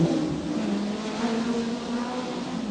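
Touring race cars at the 1987 Wellington Nissan Mobil 500 street race roar past in a steady, loud engine drone that holds through the whole stretch with no break.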